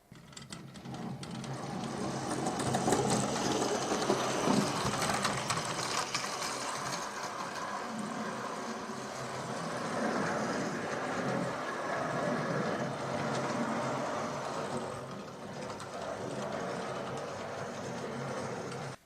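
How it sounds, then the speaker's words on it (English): A Bachmann GWR City of Birmingham model locomotive runs steadily over points on a layout, giving a continuous close mechanical whir with light rattling and clicks from the wheels, without talk. "So yeah, the loco managed that point test pretty well."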